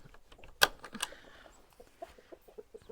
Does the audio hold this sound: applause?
no